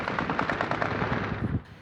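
Sustained bursts of automatic gunfire rattle in quick succession during a police shootout in Rio de Janeiro, loud and dense for nearly two seconds before cutting off.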